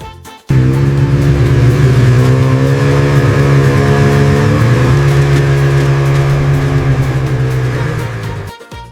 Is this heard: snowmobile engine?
yes